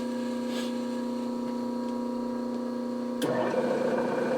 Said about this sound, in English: Sure sounds like that motor's turning free.